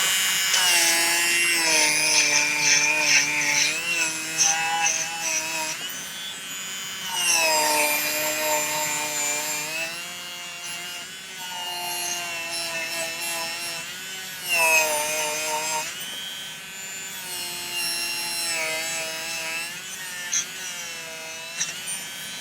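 A rotary abrasive wheel grinds the inside of a handmade silver ring, giving a steady high-pitched whine with rising and falling pitch across several long passes and brief pauses between them.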